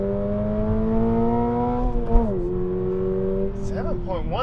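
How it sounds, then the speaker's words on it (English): A 2024 Subaru BRZ TS accelerating hard on a dry 0 to 60 mph run, its engine note rising steadily in pitch and dropping at a gear shift before climbing again, loud and close from inside the cabin. "Last 0 to 60 run, dry, everything's warm."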